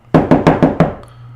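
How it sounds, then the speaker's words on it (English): Five firm, evenly spaced knocks on a door, close and loud, come in a quick steady rhythm. A faint low hum remains afterward. "there was a knock at the door"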